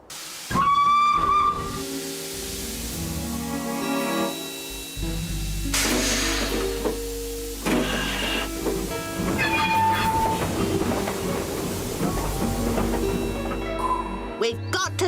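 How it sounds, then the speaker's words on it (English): A steam whistle shrieks, then a train rumbles and hisses past with clanking wagons and further whistle blasts, loud and close, with faint voices. "We've got to stop the train"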